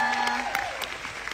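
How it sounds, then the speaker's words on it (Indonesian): Brief burst of audience applause during a live cast show, dense clapping with a sustained tone and faint voices underneath. "kita kasih tepuk tangan buat Fiona dari rumah."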